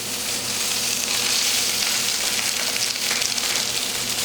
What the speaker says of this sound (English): You should hear a nice sizzle like that. That's how you know you're gonna get a good sear.